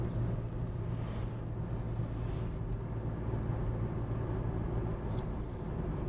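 A car coasting in fifth gear with the foot off the accelerator, heard from inside as a steady low engine and road rumble with faint tire hiss, even and continuous with no talk.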